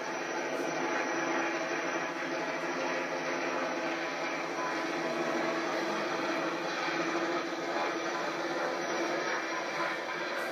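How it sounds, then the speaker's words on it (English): A fixed-wing aircraft landing, its engine roar holding steady and broadband across the whole stretch with no clear rise or fall, fairly loud and close. "We'll look at one more landing."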